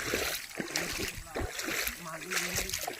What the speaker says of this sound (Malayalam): ഗ്രൗണ്ടിന് സൈഡിലൂടെ ഈ നീർച്ചാലുകൾ വളരെ ഭംഗിയായി ഒഴുകി ഇത് താഴേക്ക് പതിക്കുന്നു